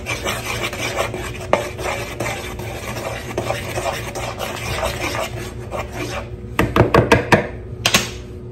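Dry cookie ingredients for zucchini cookies being stirred together in a bowl, a steady rasping scrape that runs continuously for about six seconds and then breaks into a few sharper taps and clinks near the end.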